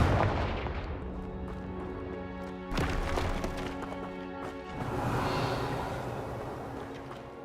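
Confringo fire spell blasts go off in Hogwarts Legacy: a sharp crack followed by a rumbling burst a couple of seconds later, set against sustained game music.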